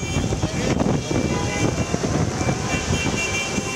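Gusty wind from cyclone Remal in Dhaka, a loud continuous roaring rush battering the microphone for a few seconds with no voices.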